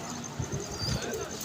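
A pigeon coos softly at a pigeon club loft, two or three low, faint murmuring calls over a quiet outdoor background.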